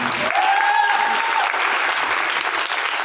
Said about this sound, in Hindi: मैं चाहूंगा कि HCPS वेलनेस के लिए जोरदार तालियां।